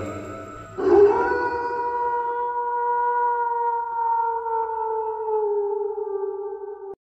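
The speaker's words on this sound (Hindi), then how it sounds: "कुत्तों की रोने की आवाज़ आ रही थी" Dogs howling at night by a deserted palace, a long sustained wavering howl rising and holding steady for several seconds, loud and alone.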